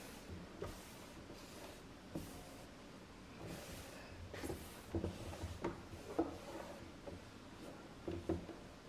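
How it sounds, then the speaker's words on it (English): A drawer is slid open and shut and its contents shuffled while it is being cleaned out indoors: a quiet series of faint wooden scrapes, knocks and bumps, spaced irregularly, with no talking. "Let me clean this drawer out too."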